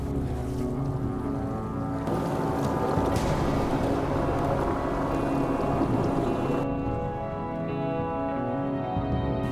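A steady longboat outboard engine drones continuously on a river in Aceh, Indonesia, loud and close, with a low rumbling hum and no voices.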